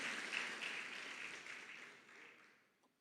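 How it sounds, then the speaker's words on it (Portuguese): Church congregation applauding after a sermon, a steady wash of clapping that slowly dies away toward the end. "esse aplauso é para você também, além de ser para Deus"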